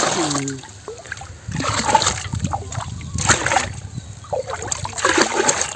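Lime water tipped into a village fish pond gives repeated heavy splashes separated by quieter dribbling, close and outdoors; a brief voice is heard at the very start.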